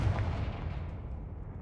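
A Confringo blasting spell from Hogwarts Legacy detonates as a deep, muffled boom whose low rumble decays over a second and a half, heard fairly faint and alone.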